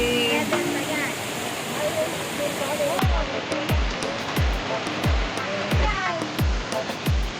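Steady roar of Tinuy-an Falls in Surigao fills the scene, with voices talking over it and a series of low thumps repeating near the end.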